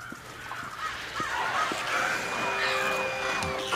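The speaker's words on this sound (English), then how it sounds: "The crows, man." Crows cawing in the video game Days Gone, several harsh calls overlapping in a steady game soundscape with a faint tonal whine, fairly close and continuous throughout.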